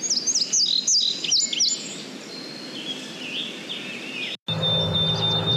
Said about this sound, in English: we've got a field sparrow singing in this direction at the edge of the meadow, or field